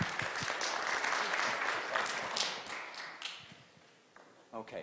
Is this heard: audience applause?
yes